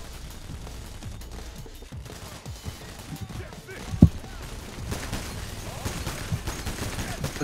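Gunfire in the heist shooter Payday: The Heist, with rapid automatic bursts and scattered shots rattling through a tense, noisy firefight, one sharp loud crack standing out, and a voice briefly heard over the action.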